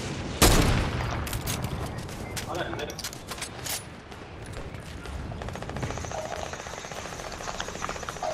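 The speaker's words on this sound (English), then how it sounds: "there's people shooting here" Bursts of Fortnite gunfire with sharp single shots and rapid automatic fire, one loud crack near the start and steady shooting throughout, with a player speaking over it.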